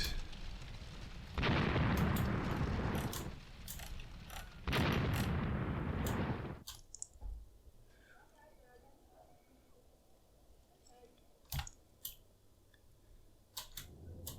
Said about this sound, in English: There's some fire coming in here. That must be German artillery.